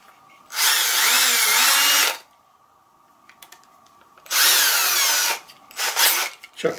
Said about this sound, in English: I'm going to put the ends in my drill.